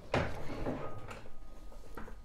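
A chair is dragged and set into place indoors, giving a few scraping knocks and bumps, loudest at the start, then a softer clunk toward the end.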